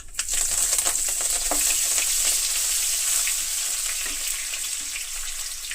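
Coriander thrown into hot tempering oil for an amaranth-leaf fry, setting off a steady, bright hissing sizzle with a few stirring clinks and pops, close and continuous without talk.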